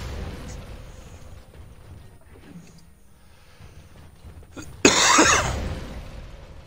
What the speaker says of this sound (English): I apologize for all the coughing.